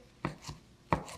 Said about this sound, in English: keep on chopping over here